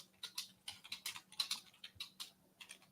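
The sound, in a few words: typing on a loud computer keyboard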